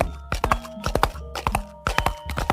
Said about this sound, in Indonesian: terdengar kuda-kuda mereka berdepak berlari, mengepulkan debu-debu.